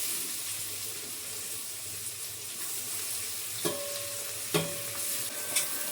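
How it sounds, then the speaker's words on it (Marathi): Onion frying in a pan for pasta in a home kitchen gives a steady, soft sizzling hiss, with a couple of brief clinks of a utensil against the pan. "म्हणून मी यात कांदा टाकते"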